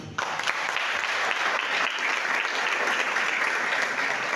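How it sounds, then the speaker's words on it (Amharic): A church congregation at a wedding ceremony in Dilla claps together, a loud, dense, sustained wash of applause that starts abruptly and continues evenly to the end. "ለእግዚአብሔር አጨብጭቡ።"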